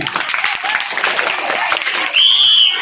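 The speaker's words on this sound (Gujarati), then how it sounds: "એમના માટે જોરદાર તાળીઓ" Lively applause for two children at a school bagless-day games event, a crowd clapping with mixed voices, then a shrill sustained whistle cutting in near the end.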